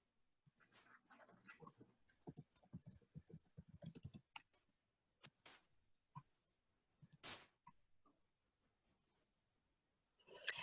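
A computer mouse and keyboard click in short, irregular bursts, dense at first and then sparse single clicks with quiet gaps, close and fairly soft.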